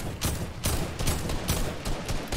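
AK rifle fire in the Fortnite video game, several bursts of close, loud shots in a rapid, uneven rhythm over a steady noisy game background.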